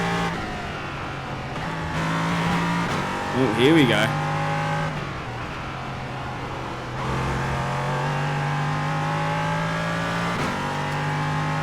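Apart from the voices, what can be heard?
LMP3 race car engine in iRacing video game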